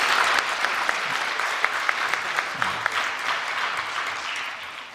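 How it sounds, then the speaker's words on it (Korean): A church congregation applauds its choir during a fourth-Sunday-of-Advent worship service, a sustained ripple of many hands with a few crisp claps standing out near the microphone, fading slightly toward the close. "다시 한번 우리 찬양대원들 격려의 박수 한번 해주십시오."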